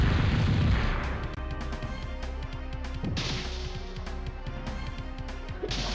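A fire spell attack in the PS1 role-playing game Elder Gate bursts loudly at the start, followed by a string of crunching impact hits over steady game music.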